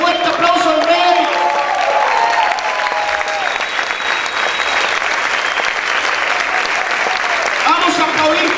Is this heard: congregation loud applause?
yes